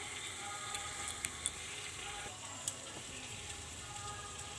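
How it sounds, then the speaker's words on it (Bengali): Cumin seeds and whole garam masala sizzle in hot oil, a faint steady hiss close by with a few small sharp pops and crackles scattered through it. "এবার তেলটা গরম হয়ে গেছে, তেলে দিয়ে দেবো একটু জিরে ফোড়ন, আর দিয়ে দেবো একটু গোটা গরম মশলা"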